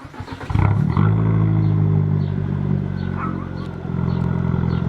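A car's loud, deep bass exhaust note starts with a rough start-up clatter, then settles into a steady, throaty low rumble that swells again near the end.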